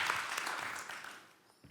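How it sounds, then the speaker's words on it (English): Audience applause fills a symposium hall, a dense wash of clapping that holds steady for over a second and then tapers away near the end. "Can we get a big round of applause for Merel and for Roderick?"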